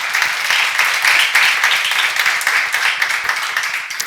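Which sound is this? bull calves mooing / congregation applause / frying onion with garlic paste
congregation applause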